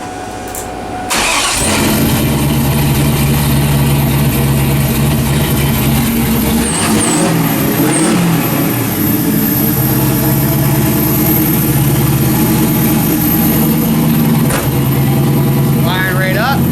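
A turbocharged 1998–2002 Camaro with the exhaust off fires up after a short crank and roars into a loud, raw, steady idle, with a voice speaking briefly over the rumble.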